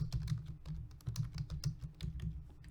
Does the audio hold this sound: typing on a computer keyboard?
yes